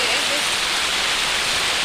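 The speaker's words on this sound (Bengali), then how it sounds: "দেখো কত বৃষ্টি হচ্ছে" Heavy rain pours down in a steady, dense hiss, a constant close wash of falling water with no breaks.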